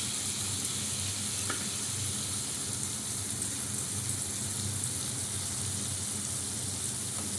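A paste of ginger, red chilli, turmeric and ground onion sizzles in a pan with softened salted tomato. The continuous, close frying crackle is dense and rain-like, with no voices.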